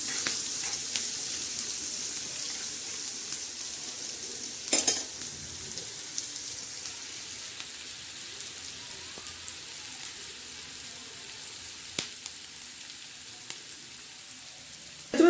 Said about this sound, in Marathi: परत एकदा मस्त अशी छान हलवून घ्यायचा कांदा.